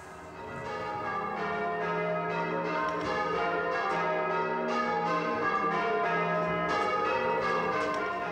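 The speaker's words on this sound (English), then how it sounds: "The locals commemorate the navigator every year on his birthday, the 5th of November, with a ring of the bells." Church bells of St. George's, Easton in Gordano ring out in a continuous peal, layered strikes overlapping steadily throughout with no talk, rich and fairly close.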